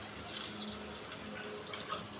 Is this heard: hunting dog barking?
no